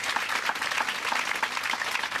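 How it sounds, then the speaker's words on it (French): Studio audience applause on a French talk show, steady dense clapping throughout at even loudness with no voices. "On vous applaudit"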